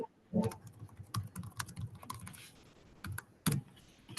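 Someone types on a computer keyboard during a library board of trustees meeting, with irregular clusters of key clicks and a few louder keystrokes, close and fairly quiet.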